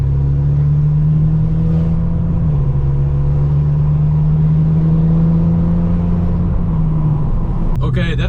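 A broken, slipping VW Golf GTI engine revving under hard acceleration, a loud steady in-car drone that rises and dips slightly as it pulls, with a short clunk near the end.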